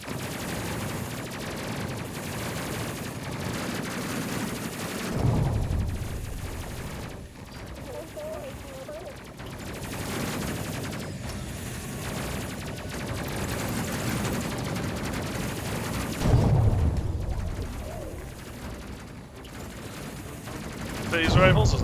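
Phase rifle fire in the space combat video game Space Crew, bursts of rapid energy-weapon shots crackling over a constant droning background, with louder flurries near the middle and end.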